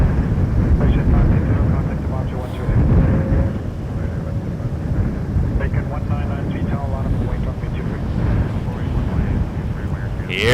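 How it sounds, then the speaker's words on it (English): A WestJet Boeing 737 MAX 8 airliner, arriving from Edinburgh, passes at Toronto Pearson Airport as a steady, broad jet engine roar that holds at a fairly constant level against outdoor background noise. "Up next, WestJet 17 from Edinburgh. 737 MAX 8."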